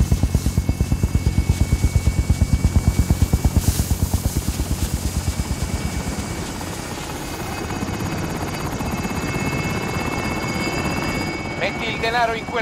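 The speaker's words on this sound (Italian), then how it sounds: "Chiama l'elicottero." Helicopter in Call of Duty: Warzone, its rotor chopping loudly and steadily at first, then settling into a smoother droning hum, with game voices speaking over it.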